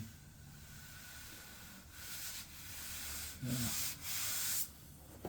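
Soft body filler on a car panel is sanded in a few hissing, rasping strokes that swell and fade, fairly faint and close, with no one speaking.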